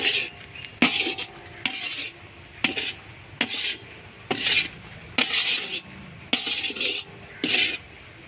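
A nutmeg herbal lehyam mixture is stirred in a pan, a spoon scraping and clinking against the metal in regular strokes with short pauses between them.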